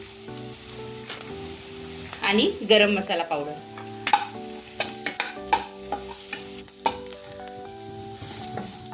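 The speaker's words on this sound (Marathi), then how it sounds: "ही फोडणी छान बसली आहे। मसाले सुद्धा छान परतले गेलेत।" Spices, chopped carrot and onion sizzle in a hot tempering, a steady frying hiss punctuated by sharp spoon clinks and scrapes, with a short spoken phrase near the start.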